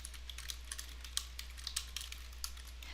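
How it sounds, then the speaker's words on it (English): Quick, light clicks of someone typing on a computer keyboard, fairly faint and irregular, over a low steady hum. "and then you type your question"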